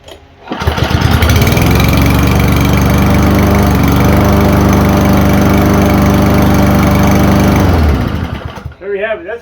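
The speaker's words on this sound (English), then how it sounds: "That's a manly sounding mower, ain't it?" An Ariens lawn mower engine starts and runs loud and close with a deep steady grumble for several seconds, then cuts off, followed by a bit of talk.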